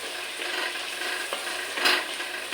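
About a hundred grams of tomatoes sauté in a clay pot with a soft, continuous sizzle, and a ladle scrapes against the pot a couple of times, nearby and fairly quiet.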